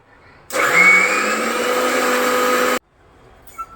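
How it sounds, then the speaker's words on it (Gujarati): An electric mixer grinder crushes moong dal and chana dal in a single loud burst lasting a couple of seconds, its whining motor pitch rising slightly as it spins up, then cutting off sharply into near silence. "મિક્સરની અંદર આપણે એને ક્રશ કરી લઈશું"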